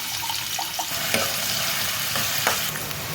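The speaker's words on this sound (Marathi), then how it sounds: "आता त्याचा कांदा टाकूया. थोडासा परतून घ्यायचा आहे." Chopped onion sizzles and fries in hot oil in a pot, a steady close crackle with occasional stirring scrapes over a few seconds.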